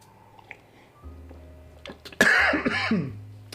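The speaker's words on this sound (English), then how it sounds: "Pardon me if I cough a little." A single sharp cough bursts out near the microphone, followed by a short rough tail and faint background noise.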